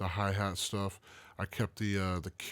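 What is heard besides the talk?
None of the usual background noises is heard.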